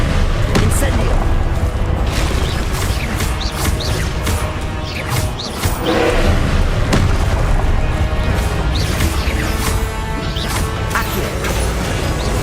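Spell blasts and explosions from the video game Hogwarts Legacy crash and boom almost without pause, dense and loud, with a voice talking over the battle.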